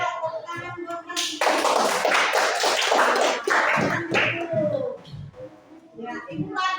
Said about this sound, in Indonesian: ayo tepuk tangan buat kami